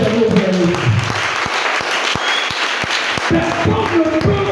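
A church congregation bursts into sustained applause and cheering, dense rapid clapping filling the room, with regular thumping beats running through it and voices talking and calling out over the top.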